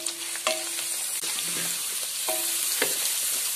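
Long-sliced onions for a roasted-coconut chicken curry fry in a pan with a steady, close sizzle, broken by a few sharp metallic clinks of stirring.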